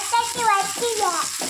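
Two slit green chilies fry in a hot pan for a yellow potato kurma. A steady hiss of oil runs under a voice that talks throughout.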